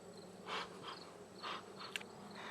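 Honeybees hum faintly around an open hive frame, with soft buzzing swells rising and fading every half second or so and a brief sharp tick near the end.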